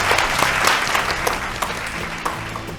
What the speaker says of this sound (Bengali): হাততালি জোরে সবাই।